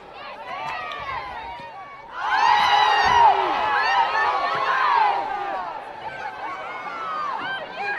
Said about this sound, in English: Oohs and ahs out of the crowd.